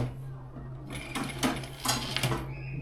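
A newly bought home sewing machine stitches in short bursts over a steady low motor hum, with quiet pauses between runs, fairly close and moderately loud.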